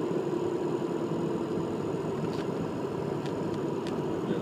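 Ford 6.0 Powerstroke diesel truck engine with a sticking turbo at light cruise, a steady low droning rumble heard from inside the cab, fairly faint and unbroken, with a few faint clicks.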